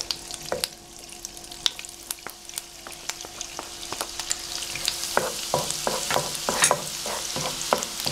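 Garlic fries in butter in a pan with a bright, crackling sizzle, punctuated by sharp pops and stirring clicks that grow busier and louder over time.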